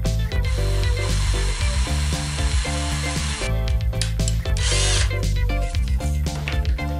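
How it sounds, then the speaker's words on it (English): A loud power drill whines steadily nearby, its pitch dipping and surging as it bites into a metal coffee can flange, with brief pauses and clicks between runs. "we mark where to drill in the flange so that we can fit the mounting screws through it"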